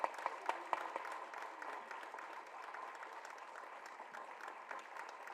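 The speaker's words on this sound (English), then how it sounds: "Can we have a huge round of applause for her?" Audience applause at a Shubha Mudgal concert for International Thalassemia Day, a steady dense wash of clapping from a crowd with a few sharp louder claps near the start, sustained at moderate level throughout.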